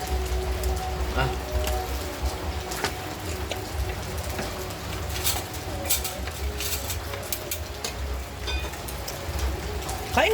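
Raindrops fall on surfaces outdoors in a continuous, moderately faint patter of scattered ticks and taps, with occasional clinks of dishes and a voice in the background.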